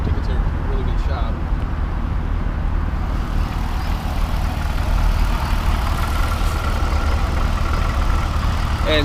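A 2014 Camaro ZL1 fitted with a Borla exhaust idles with a steady, deep low rumble, continuous throughout at close range.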